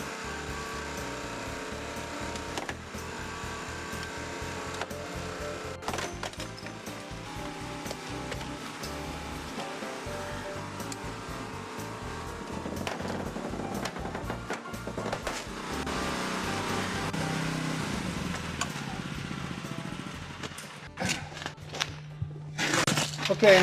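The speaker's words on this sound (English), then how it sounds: "All Genesis cutters are designed to cut hinges." A Genesis hydraulic rescue cutter bites through a vehicle door hinge, giving repeated crunching, cracking and snapping of metal over a low mechanical drone, ending in a few sharp breaks.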